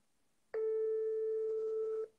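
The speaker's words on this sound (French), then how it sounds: "Je vais t'appeler tout directement. FaceTime." A FaceTime video call rings out as a single steady electronic tone, clear and close, lasting about a second and a half before cutting off, with no talk over it.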